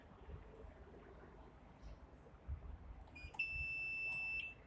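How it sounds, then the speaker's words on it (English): An EV DC charging station with a CCS connector beeps once with a sustained electronic tone outdoors, preceded by low rumbling background noise. "the charger beeped at me"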